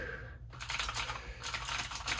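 Rapid clattering keystrokes on a Corsair K70 RGB Pro gaming keyboard, close and crisp, with a brief pause near the start before steady typing resumes.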